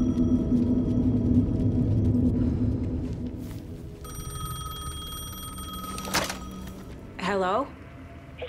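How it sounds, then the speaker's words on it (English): A payphone rings in the video game Alan Wake 2, with repeated electronic bell tones over a low ambient rumble, followed by a brief voice near the end. "The payphone was ringing."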